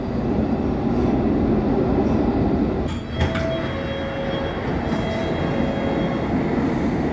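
A London Underground Metropolitan Line train running near Finchley Road, a loud, steady rumble and roar of wheels on track with a thin squeal rising briefly partway through.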